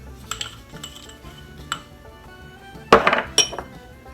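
A spoon mixing melted butter with garlic powder, salt and dried parsley in a bowl, sharp clinks and scraping taps against the side, with a louder clustered rattle near the end, close with no speech.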